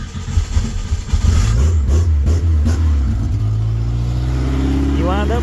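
Engine fitted with Holley Sniper EFI and showing some bottom end noise, revving loudly then settling to a steady idle up close, with a voice speaking briefly over it.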